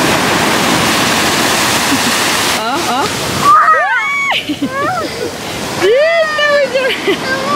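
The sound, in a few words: sea water splashing at the beach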